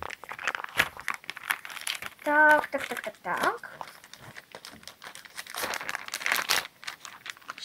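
Plastic toy packaging from a Monster High doll clothing set crinkles and tears by hand, with a brief voice speaking over the rustling.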